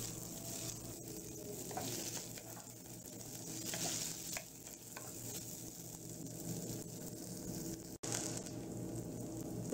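Thin onion slices softening in hot oil with herbs and garlic for a spinach and paneer curry give a steady, dense frying sizzle throughout, close and even, with no talking.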